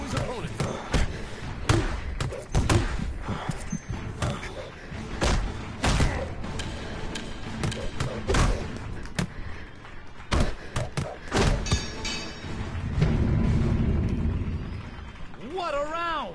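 Repeated heavy punches thud and slam in a Creed boxing video game, coming in rapid irregular bursts throughout, mixed with game commentary talking over the blows and a brief rising tone near the end.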